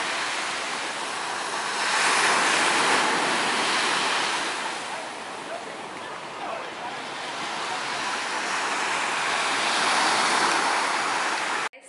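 Ocean waves wash onto a beach in Hawaii, a loud, broad roar of surf swelling and receding in slow surges, mixed with some wind noise.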